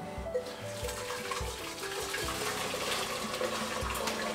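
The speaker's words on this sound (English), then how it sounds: "I've got about 7 or 8 cups of water here that I've just boiled, so I'm going to be putting it into a large pot" Freshly boiled water, seven or eight cups, is poured from nearby into a large pot on a stove, a steady splashing pour lasting a few seconds with no talk.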